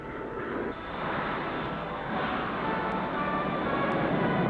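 Jet aircraft engine flying overhead in archival 1950s footage, a loud, steady broadband roar that holds throughout with no speech.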